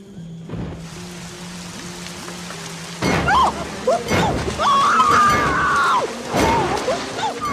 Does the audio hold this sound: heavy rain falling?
yes